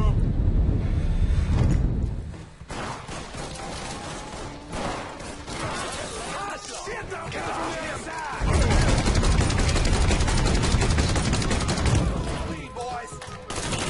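Steady, loud automatic gunfire in the video game Mafia III, with volleys of shots rattling on and off over a noisy, windy background.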